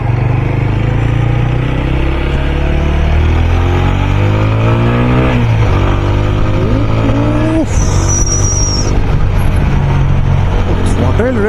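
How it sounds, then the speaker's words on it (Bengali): A TVS Apache motorcycle in sports mode revs loudly and steadily throughout, its engine note climbing and falling with throttle blips, with rising whine near the end and a voice talking over it. "খুব সুন্দর অ্যাপাচির থ্রটল রেসপন্স"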